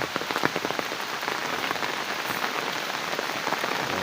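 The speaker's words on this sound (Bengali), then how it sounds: "দেখুন শুধু বৃষ্টি আর বৃষ্টি, আধা ঘন্টাও হাইমা থাকে না, বৃষ্টি পড়তেই আছে।" Heavy rain pours down steadily and loudly on surfaces during a days-long downpour with flooding, a dense continuous hiss with scattered nearby drips and splashes, no voices.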